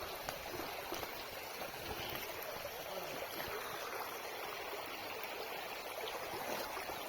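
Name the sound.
stream water flowing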